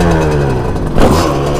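Motorcycle engine revving harder to lift into a wheelie, loud and close, a steady growl that surges to higher revs near the middle before settling.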